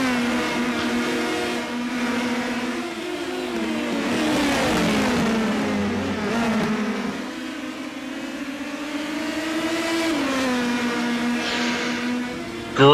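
Race car engines in iRacing at Oulton Park during a USF Pro race, a steady high-pitched whine rising and falling through gear changes as cars climb and brake, loud and close with no talking over it.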